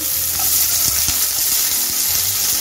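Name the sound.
frying in hot mustard oil, stirring, sizzling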